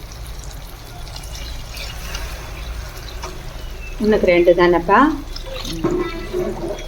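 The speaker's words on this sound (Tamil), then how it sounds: "நம்ம தண்ணி ஊற்றுறோம்" Water is poured into a pot of prawn biryani, a trickling, splashing pour that surges for a few seconds while a person talks over it and faint kitchen background fills the rest.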